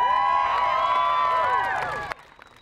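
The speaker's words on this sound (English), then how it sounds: "Students are applauding a bill that's already passed the Senate" Students rally at the Capitol for a Colorado college-tuition bill, a loud, sustained wave of high-pitched cheering and whooping voices that ends abruptly.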